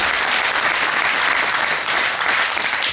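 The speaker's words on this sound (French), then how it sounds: "En tout cas, applaudissements pour Thomas Lassagne" Loud, dense applause from a crowd at a junior cycling team presentation, continuous clapping that stays strong throughout the three seconds without a break.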